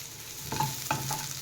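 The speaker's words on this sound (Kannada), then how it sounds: "ಇಲ್ಲಿ ಅರ್ಧ ತುಂಡು ಈರುಳ್ಳಿ ಹಾಕ್ತಿದ್ದೇನೆ" Half an onion dropped into hot oil and frying, a steady close sizzle with a couple of faint clinks from stirring.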